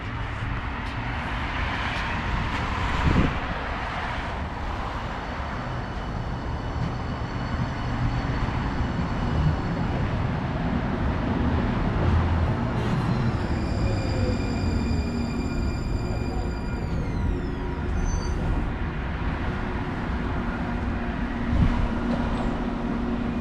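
A metro train at a station in America, with a steady low rail rumble and a rising electric motor whine partway through. No voices are heard.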